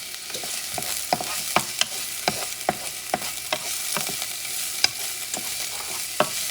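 Onions, mushrooms and peppers fry in a pan under a constant bright hiss, with frequent quick scrapes and clicks from a utensil stirring them, close with no voices.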